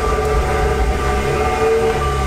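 A 2015 Subaru WRX driving, heard as a steady, loud engine and road drone that holds evenly throughout with no voices.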